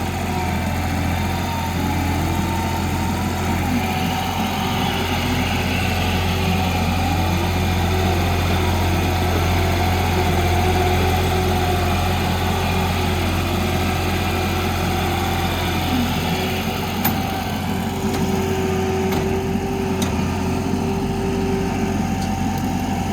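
An old cabover truck engine idles steadily on a farm, a low constant rumble filling the whole stretch at close range with no talk over it.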